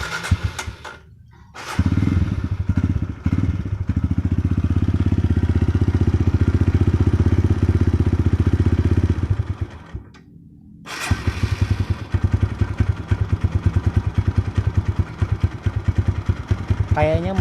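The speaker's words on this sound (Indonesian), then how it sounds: "Yuk kita dengar suara mesinnya." A 2013 Kawasaki KLX 150 S motorcycle engine starts after a brief pause and runs at a steady, loud idle close by, then cuts briefly and restarts with a rougher, clattering rhythm.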